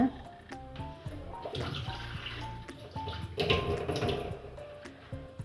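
A steady stream of water pouring and splashing into a measuring cup in a home kitchen while making soan papdi, running continuously with some faint tonal background sound underneath.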